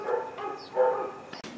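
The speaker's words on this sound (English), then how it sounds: "They're great dogs." Shelter dogs give a couple of short, close yipping barks with a brief whimper between them, loud and alone with no talk.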